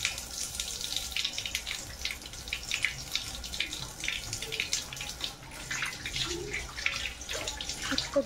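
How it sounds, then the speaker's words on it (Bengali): Tap water runs steadily into a sink while hands are washed after applying winter cream, a soft continuous splashing with small irregular spatters, fairly close and alone. "হাতটা ধুয়ে নিচ্ছি।"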